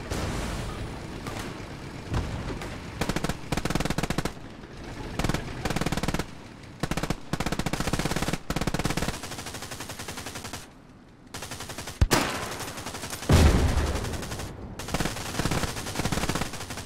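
Machine gun fire in the WWII shooter Hell Let Loose: long, dense bursts of automatic fire with brief gaps and a heavy boom near the end, loud and continuous for the whole stretch, with no speech.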